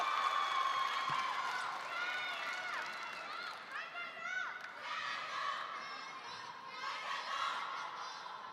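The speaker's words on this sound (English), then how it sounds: "We got battle chanting in the crowds right now." A large crowd at a men's singles table tennis final, Ma Long against Fan Zhendong at the 2017 Qatar Open, keeps up loud chanting and cheering throughout, with layered voices and shouts rising and falling.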